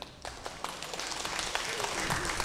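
Audience applause at a 2019 Spring Festival gala in Montreal: a steady, dense wash of clapping across the whole stretch, fairly distant and even, with faint voices mixed in.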